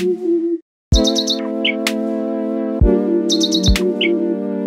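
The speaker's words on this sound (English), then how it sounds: "We recorded the birdsong of endangered species." Birdsong recorded from endangered bird species, heard as loud, sustained tonal calls with bright, repeated chirps layered above them. The calls continue without a break for several seconds.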